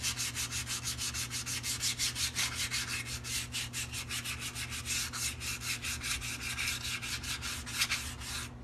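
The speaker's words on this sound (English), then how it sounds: "you want to take your wet dry sandpaper. I always use just 400 grit and use light pressure and sand out all the imperfections, all the rust" Steady back-and-forth scrubbing of 400 grit wet/dry sandpaper under light pressure across a rusty wheel rim being prepped for paint, rhythmic rasping strokes close up and continuous, with a low hum underneath and no talking.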